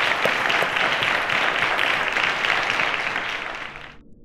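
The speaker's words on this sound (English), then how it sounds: "A round of applause to Ayibatari and Al-Ameen." Loud, steady applause from a studio audience for contestants on a quiz show, dense clapping holding for several seconds before cutting off abruptly.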